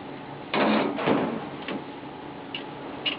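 A drawer on a D-Tech self-service laptop kiosk slides shut with a muffled thud, followed by a second knock and a few faint clicks, close and fairly quiet with no talking.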